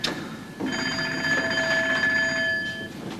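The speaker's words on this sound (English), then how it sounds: "Someday that phone's going to ring" A telephone bell rings in a school stage comedy, a steady tonal ring that starts after a short pause, holds for about two seconds and then stops, fairly loud with no talking over it.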